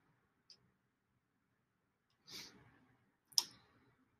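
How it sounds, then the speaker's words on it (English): A few sharp computer mouse clicks, sparse and isolated in a quiet room, with one faint tap followed by two louder distinct clicks. "And then you're gonna click next."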